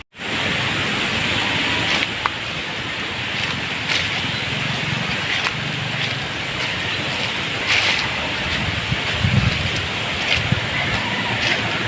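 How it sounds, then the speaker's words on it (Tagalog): Loud, steady roar of strong typhoon wind rushing without pause, with occasional brief gusts and faint patter rising above the constant noise. "Ang lakas po talaga ng hangin."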